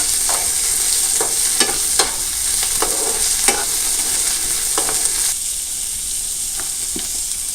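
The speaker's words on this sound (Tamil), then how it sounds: "வெங்காயம், பச்சை மிளகாய், கருவேப்பிலை சேர்த்து வதக்கணும்" Onion, green chili and curry leaves frying in oil with cumin: a loud, constant sizzle with repeated spatula scrapes against the pan, close up, with no voices.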